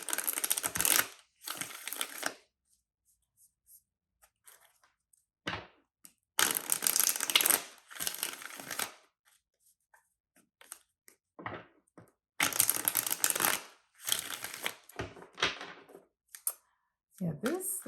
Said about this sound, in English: I do like to do a little extra shuffle